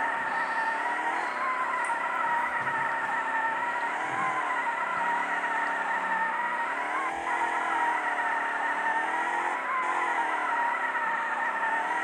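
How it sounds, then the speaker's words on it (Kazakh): A car engine in a video game drives steadily, a continuous droning tone whose pitch gently rises and falls as it revs, heard alone and at an even level throughout. "Өстіп айдайсыздар машинаны."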